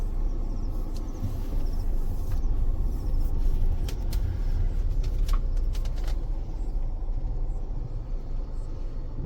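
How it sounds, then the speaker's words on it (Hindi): A vehicle engine rolls slowly along on a night safari drive, a steady low rumble close by filling the whole stretch, with faint clicks and rattles above it and no talking. "थोड़ा सा आगे लेता हूँ गाड़ी"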